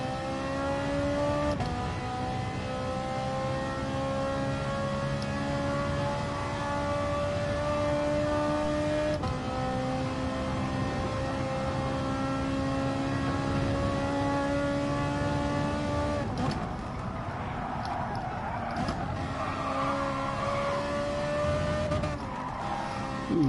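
A race car on a fast lap screams at high revs, steady sustained engine tone with gear-change pitch drops, loud and close, no talk over it.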